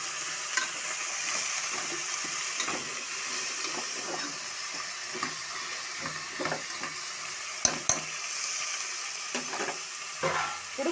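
Steady sizzle and scrape of a spoon stirring curry vegetables with jaggery in a pan for sambar, with soft frying hiss and occasional clinks, close-up and without speech.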